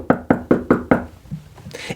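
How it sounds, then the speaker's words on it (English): Five sharp knocks on a door in a steady, even rhythm, loud and close, followed by a short pause and a faint shuffle. "there was a knock on the door."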